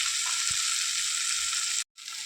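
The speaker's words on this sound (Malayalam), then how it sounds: "തക്കാളിയും പച്ചമുളകും വെളുത്തുള്ളിയും സവോളയൊക്കെ നന്നായിട്ട് വഴന്ന് വന്നിട്ടുണ്ട്" Tomato, green chilli, garlic and onion sizzle steadily in a pan, a constant bright frying hiss with a brief dropout near the end before the sizzle resumes.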